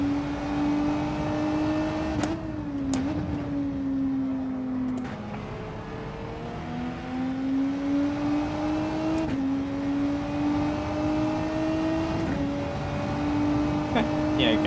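A Renault race car in Gran Turismo 7 drives with a loud, steady engine tone that climbs through gears, with brief shift drops and revs rising again, continuous and close.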